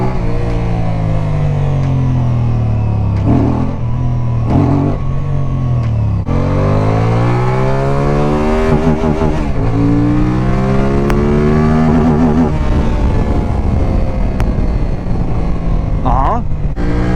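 A Qjmotor Race 550s motorcycle with a 270-degree crank engine revs hard under throttle, loud and close, its pitch climbing and dropping in repeated surges over a steady idle, with someone talking over it.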